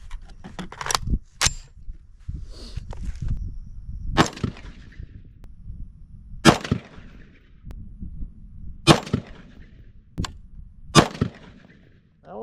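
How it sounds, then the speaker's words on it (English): Rifle shots fired one at a time at a target on a range during accuracy troubleshooting, several sharp loud reports spaced a second or two apart, with quieter handling clatter between them. "We're going to transition to the next target and do another 4 rounds and see what it does."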